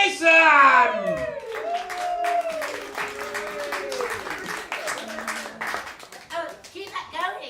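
An audience at the Colour House Theatre comedy club bursts into clapping and cheering, opening with a loud whoop and then settling into steady close applause as a voice speaks over it.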